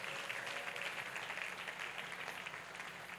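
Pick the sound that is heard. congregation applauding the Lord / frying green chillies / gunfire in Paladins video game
congregation applauding the Lord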